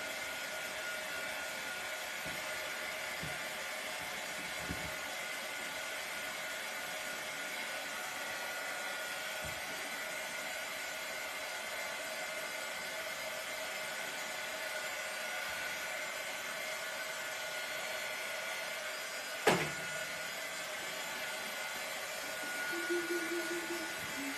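Steady, even blower noise runs for the whole stretch while a napkin-decoupaged Dollar Tree flower pot with dragonfly napkins is dried, with one sharp click near the end and a brief low hum after it.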